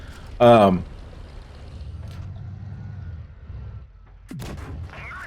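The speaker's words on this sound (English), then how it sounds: "we're going to get a few more shots here into the SU" One sharp tank gun shot fires early in World of Tanks Blitz, loud and brief, followed by a low engine rumble and a faint second bang near the end.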